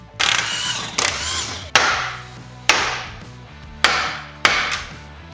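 Six sharp metallic hammer blows ring out at irregular intervals, each strike loud and close with a ringing decay, as a hammer knocks a loose car tie rod end free.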